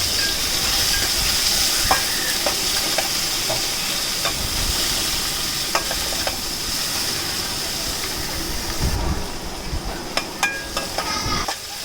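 Green chillies and tomatoes sauté in a pan for a Rameswaram-style fish curry, giving a steady close sizzle with scattered stirring clicks and scrapes throughout, no talking.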